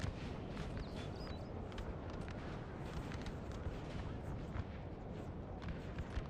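Musket covering fire in a Napoleon Total War battle, a dense continuous crackle of distant gunfire and low booms rolling without pause, fairly faint and busy throughout.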